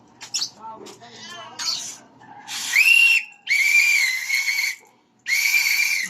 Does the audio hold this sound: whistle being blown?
yes